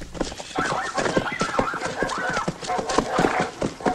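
Horse hooves clopping as an audiobook sound effect: a dense, uneven run of hoof strikes with snorts and whinnies layered on top, fairly loud and close, playing steadily throughout.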